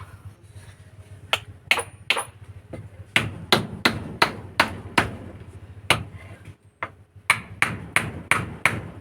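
Two nails are hammered into a chicken nest made from an empty cement bag. The sharp, ringing hammer strikes come close and loud, first in irregular bursts and then in quick steady runs, with faint background noise between them.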